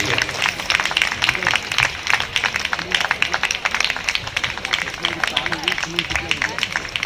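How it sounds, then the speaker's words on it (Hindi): An audience at a community gathering claps in a loud, dense round of applause that runs unbroken throughout, with voices mixed in. "सभी लोगों से ताली बजाई दीजिए। कर्तन जरा जोरदार होनी चाहिए।"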